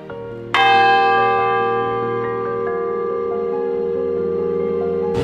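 A memorial bell tolled at night for Covid-19 victims: one deep, resonant strike rings out loud and close, then a long humming decay lingers for several seconds with no voices.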